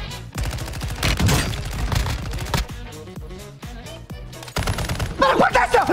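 Video game gunfire, loud and close, in rapid automatic bursts with short pauses between volleys and a brief voice near the end.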